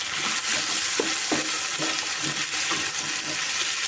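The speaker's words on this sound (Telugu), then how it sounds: "మొత్తం ఒకసారి కలుపుకుందాం." Ivy gourd and onion frying in oil in a pan, stirred with a steady hiss and repeated scraping strokes at close range, no voices.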